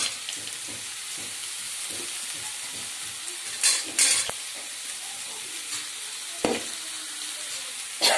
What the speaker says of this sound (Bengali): সরষেটা ভালো করে ফাটিয়ে নিচ্ছি।